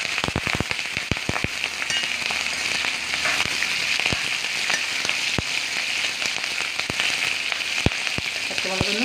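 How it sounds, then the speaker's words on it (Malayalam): Green chillies frying in hot oil with fenugreek and curry leaves for inji thiyal, a steady close sizzle broken by frequent sharp pops and crackles throughout. "പച്ചമുളകൊന്ന് മൂക്കട്ടെ. നല്ലോണം മൂത്തു."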